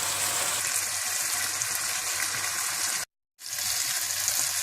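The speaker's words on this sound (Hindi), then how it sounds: "आपने तब तक इसे भूनना है जब तक ये पेस्ट की शक्ल में बन" Masala paste fries with a little water in a pan for moong masoor tarka dal, a dense steady sizzle close up, broken once by a brief gap, with no talk.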